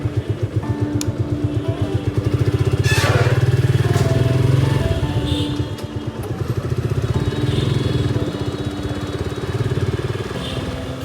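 A brand-new motorcycle riding on the road, its engine putting out a steady, close, throbbing drone that swells and eases slightly as it goes, with no talk over it.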